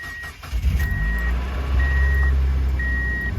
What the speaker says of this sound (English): now that we have the fresh oil put in the motor, we can actually get the vehicle started